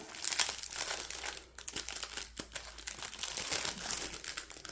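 A wrapped colouring kit package being opened, a close, continuous crinkling and crumpling of plastic wrapping with brief tearing bursts, fairly quiet, with no voices.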